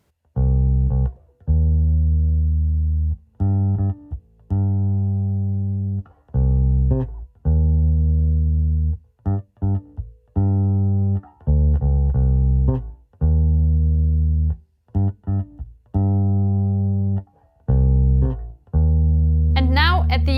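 Electric bass guitar plays a chromatic line from a song, a steady stream of separate plucked notes in a funky rhythm, close and clear, with brief gaps between phrases.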